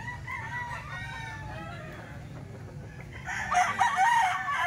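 A fighting stag crows repeatedly at a rooster farm, its strident calls rising and falling at moderate distance, joined by a louder, closer crow near the end amid background clucking and ambient noise.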